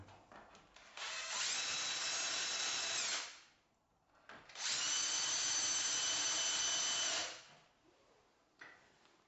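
A power drill with a 1/4 inch centre drill whines through two long bursts drilling metal, each a few seconds, with a brief quiet gap between, steady and close.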